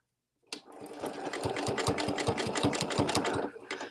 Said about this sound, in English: I'm going to just do the little tiny zigzag stitch.